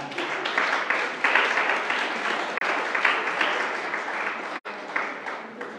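A church congregation applauds and cheers the Lord, steady loud clapping filling the room throughout with a couple of brief dips, no speech over it.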